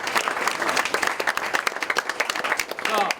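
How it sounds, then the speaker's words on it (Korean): Church congregation gathered at the army non-commissioned officer school clapping together in a burst of applause, dense rapid claps close by, with voices mixed in. "박수 한번 쳐주세요."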